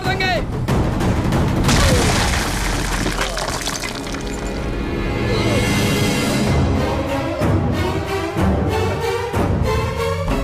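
A gunshot rings out in a tense film scene set in a compound, a loud booming blast at the start with heavy music and effects continuing beneath, followed by further sharp hits near the end.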